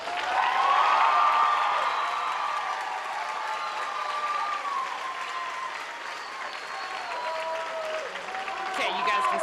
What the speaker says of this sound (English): You can give him a nice big round of applause.